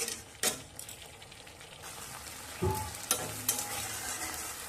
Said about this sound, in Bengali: এবার টমেটো খুব ভালো করে কষিয়ে নিই